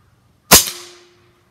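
Single shot from a Benjamin Bulldog air rifle fitted with a moderator, fired into a log: one sharp, fairly loud crack with a short ringing decay, close by and alone.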